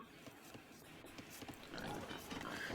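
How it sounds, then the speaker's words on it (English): Pigs oink in an Age of Empires II style strategy game match, brief grunting calls scattered over a steady bed of game ambience and faint background activity. "He's looking for his own pigs."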